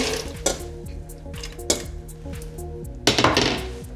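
Vegetables being transferred between metal pots while cooking fish soup, with a few clanks and scrapes of utensil against pot over a soft background hum, close and fairly loud, no voices.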